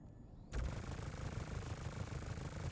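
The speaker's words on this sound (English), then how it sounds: "It's a shoot down gun though, for the record." A Starlancer ship gun in the space game Star Citizen opens fire abruptly and keeps going as a dense, sustained roar of rapid shots, loud and steady until the end.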